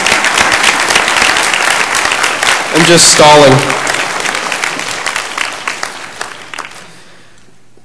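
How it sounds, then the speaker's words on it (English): A church gathering applauds Brother Ernie with sustained, loud clapping that swells midway while someone speaks briefly over it, then tapers off and fades out near the end. "I think Brother Ernie needs a round of applause"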